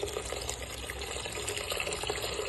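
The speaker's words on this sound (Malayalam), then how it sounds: "കുറച്ച് വെള്ളം ഒഴിക്കണേ." Water pours steadily into a cooking fish curry, a continuous close splashing fill lasting a few seconds.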